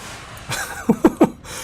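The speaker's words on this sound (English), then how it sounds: "they added a new sound for coughing and smoke" In the Subnautica video game, a character coughs in smoke, three quick, close coughs in a row following a brief breathy gasp, with no talking.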